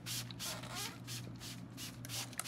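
Bursts of 91% alcohol sprayed from a bottle to clean surfaces, several hissing pumps in a steady rhythm, close and fairly loud, with a low hum underneath.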